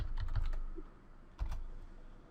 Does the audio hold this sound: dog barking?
no